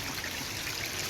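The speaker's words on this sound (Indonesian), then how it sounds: "ada aliran kecil dari mata air gitu, mengalir ke bawah, nyambung ke sungai nanti itu" A small spring-fed stream flowing down toward a river near a hidden waterfall in Malang, a faint steady babble with no voices.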